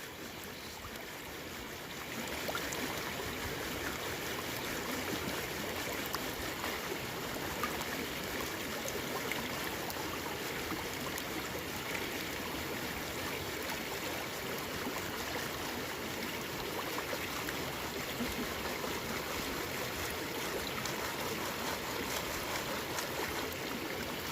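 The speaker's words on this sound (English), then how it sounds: "I always pan a little bit slower, no matter what pan I'm using" Gravel being panned for gold in water, a steady sloshing and trickling swirl that runs continuously at close range, unhurried and even, with no talking.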